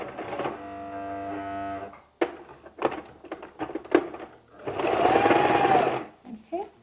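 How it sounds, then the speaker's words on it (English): A sewing machine runs in short bursts, its motor whirring for a couple of seconds at a time between pauses, with people talking over and between the stitching runs. "You are in charge of the sewing machine"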